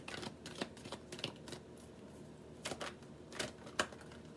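Tarot cards being shuffled by hand, a series of short crisp riffling bursts at an uneven rhythm, close and fairly quiet with no talking.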